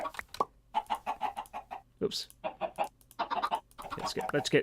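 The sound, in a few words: chicken clucking in the video game Minecraft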